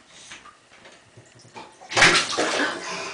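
Bath water splashing in a tub as a child plays, a soft sloshing at first that swells into a louder, close burst of splashing near the end.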